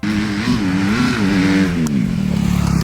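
A Honda CRF250R four-stroke motocross bike engine revs steadily and loudly, its pitch rising and falling through a few throttle blips before settling into a rough, pulsing idle.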